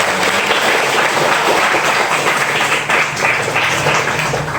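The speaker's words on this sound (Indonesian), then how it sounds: "tepuk tangan dulu yang meriah" A gathered audience at an oral exam session on Islamic legal maxims claps loudly and continuously, a close, dense rattle of many hands held at a steady level throughout.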